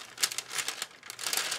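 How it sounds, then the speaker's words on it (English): Cellophane bags crinkling up close in short, irregular crackly bursts for under two seconds, with no voices. "it's going to get noisy because these are cellophane bags"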